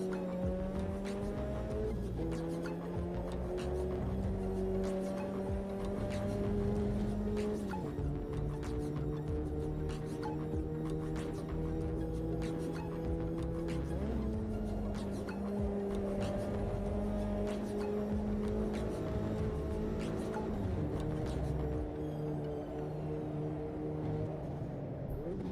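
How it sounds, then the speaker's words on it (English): Sim racing video game car engine with a bright exhaust note revving up through the gears, pitch climbing then dropping at each upshift in repeated steps, loud and continuous with faint tyre noise. "Fifth gear sounds so depressed once you've just come through all these gears with a lovely exhaust note"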